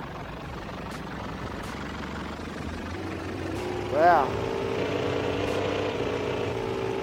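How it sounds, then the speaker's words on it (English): A steady droning motor-like whine, a simulated engine sound played from an InMotion V13 electric unicycle's speaker, holds throughout, with a brief spoken exclamation cutting in near the middle. "I can change the engine sound."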